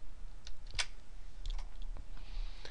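Keyboard keys click sharply as an Excel shortcut is typed, a handful of distinct close taps spaced irregularly over a quiet background.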